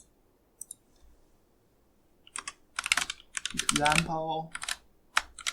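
Typing a file name on a computer keyboard: a burst of crisp key clicks, sparse at first then in quick clusters, close and moderately loud, with a voice speaking briefly over the middle.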